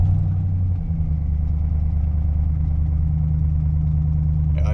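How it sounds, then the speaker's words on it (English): An old work truck's engine idles steadily up close, a low, even rumble with a faint ticking from its faulty displacement-on-demand system, and no voices over it. "Let's fire up my trusty old work truck with the bad displacement on demand tick."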